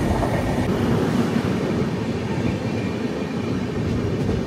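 Visakhapatnam–Tirupati AC Double Decker Express in motion, a steady loud rumble of rolling wheels and carriage noise, continuous without breaks and no voices.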